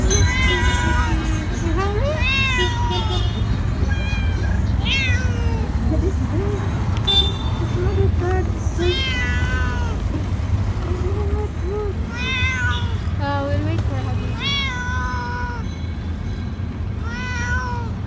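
Several hungry, sick cats meow repeatedly in rising, plaintive calls close by, with people talking in the background and a steady low rumble of traffic, including a brief car horn.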